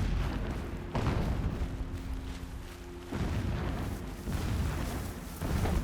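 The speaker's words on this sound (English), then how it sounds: "What kind of video game would this be if those explosions didn't eventually concern me?" Deep explosions boom in the video game Horizon Zero Dawn, heavy rumbling blasts rolling in at intervals of a few seconds, distant and muffled under steady game ambience.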